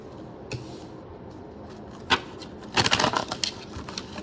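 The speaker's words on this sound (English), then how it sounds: "So let me shuffle." Tarot cards being shuffled: a couple of isolated flicks, then a quick burst of riffling clicks and taps, close by, with no talking.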